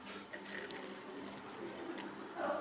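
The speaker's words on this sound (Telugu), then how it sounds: "ఇలా వాటర్ యాడ్ చేసుకొని" Water is poured steadily into a pot for gooseberry rasam, a continuous close splashing and trickling that grows a bit louder at the end.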